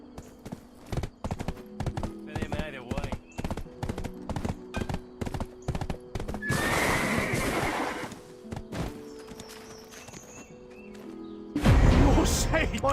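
Horse hooves clip-clopping in the Black Desert video game, a steady rhythm of close, fairly loud footfalls with a whinny and other game sound effects around them, and a burst of noise near the end.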